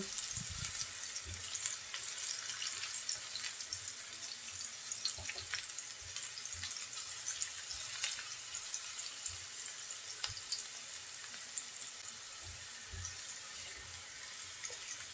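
Bitter gourd (karela) frying in a pan, a faint continuous hissing sizzle with occasional low knocks and stirring noises, quiet and steady with no talk.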